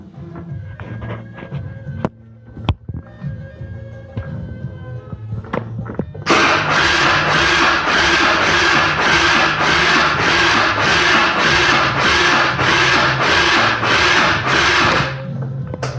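A Mondial Mash scooter engine on a 50cc-to-150cc GY6 swap, in weak condition after long disuse, starts after some quieter workshop noise and then runs loudly and steadily up close with a rapid pulsing idle before cutting off.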